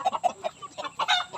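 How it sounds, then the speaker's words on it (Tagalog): Roosters and hens cluck in quick, close bursts at a rural provincial yard, a short run of choppy, overlapping calls from several birds. "Daming tandang."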